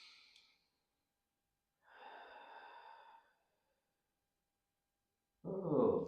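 Deep, slow breaths taken during a back stretch exercise: a few soft, close inhales and exhales separated by silence, the last one louder.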